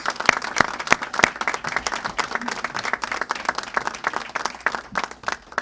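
Crowd at a public event marking a new law on diversity on corporate boards applauds. Sharp individual claps ring out over a steady bed of moderate clapping, with a faint voice briefly underneath.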